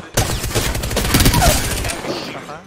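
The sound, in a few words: gunfire in the video game Apex Legends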